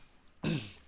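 A single short, harsh cough-like burst from a person, close and fairly loud, cutting in suddenly after quiet and trailing off within a fraction of a second.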